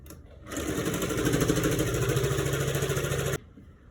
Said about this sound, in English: go ahead and run a stitch on it. Just a little stitch.